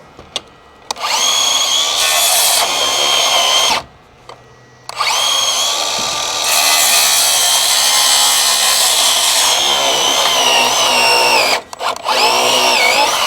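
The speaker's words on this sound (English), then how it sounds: "This is a good saw. They said with one charge on this, you can cut 750 studs, 4-inch." A battery-powered saw, rated for 750 four-inch studs per charge, cuts through wood in several loud, close bursts, with brief pauses between cuts and a short gap near the end.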